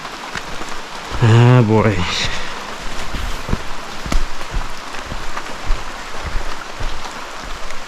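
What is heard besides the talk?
heavy rain falling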